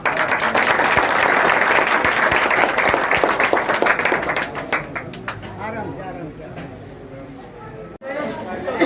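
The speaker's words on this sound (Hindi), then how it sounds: "जोरदार तालियां।" Loud, sustained applause from a crowd at a village program in Alwar, Rajasthan, dense clapping that gradually thins out, with a voice speaking over it toward the end.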